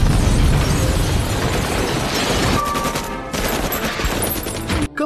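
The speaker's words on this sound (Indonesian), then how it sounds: "Tiba-tiba ledakan terjadi." An explosion in a film scene, heard as a loud, sustained blast with crackling, popping bursts like rapid gunfire, which thins out before cutting off abruptly at the end.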